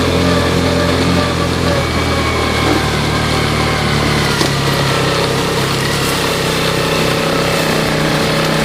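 A Yamaha Champ UTV golf-cart engine runs steadily on a new carburetor during a ride, a loud continuous buzzing drone close to the microphone with no talk.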